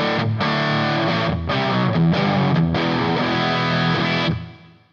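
Heavy distorted rock guitar played through a HeadRush unit with a medium plate reverb, about 20 ms pre-delay and tails on. Loud sustained chords ring continuously with brief breaks, then the reverb tail fades out at the end.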